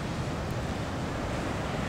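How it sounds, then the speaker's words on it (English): Ominous ocean surf at Ocean City, Maryland, in the aftermath of Hurricane Sandy, a loud, steady roar of breaking waves blended with wind buffeting the microphone, continuous and without voices. "The ocean looks ominous, though."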